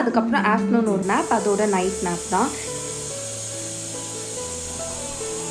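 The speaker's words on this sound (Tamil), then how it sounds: "ஸோ இப்போ நீங்கள் கேட்ட அந்த பர்டிகுலர் சவுண்ட் வந்து ஒயிட் நாய்ஸ்." White noise plays steadily from an Alexa smart speaker for a sleeping baby, a constant broadband hiss that continues alone after a person finishes speaking over it.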